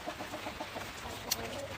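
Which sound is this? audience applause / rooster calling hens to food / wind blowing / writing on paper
rooster calling hens to food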